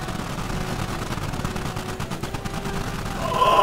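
Continuous dense gunfire from the video game Squad crackles in rapid bursts, layered rifle and machine-gun shots at close to middle distance with no talk.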